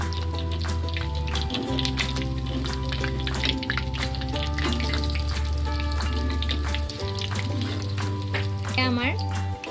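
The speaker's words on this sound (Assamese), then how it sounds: "মই বাকী থকা ৰঙালাও ফুলখিনিও ভাজি দিলোঁ।" Pumpkin flower pakoras coated in gram-flour batter crackle and sizzle in hot oil in a kadai, a continuous spitting hiss running beneath prominent background music.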